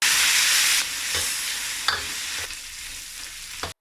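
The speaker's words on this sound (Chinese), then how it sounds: "放入鸡丁，大火炒干水汽" Diced chicken hits hot oil with bay leaves, star anise and cinnamon in a wok over high heat, giving a loud, dense sizzle that gradually eases, broken by a few sharp stirring clacks.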